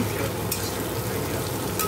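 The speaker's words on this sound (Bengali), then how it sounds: "ডিমের ঝুড়ি ভাজা করবো বলে এখানে পেঁয়াজ লঙ্কা দিয়ে দিয়েছি।" Onion and green chili fry in oil for egg bhurji, giving a loud, continuous close-up sizzle with brief bursts of crackle.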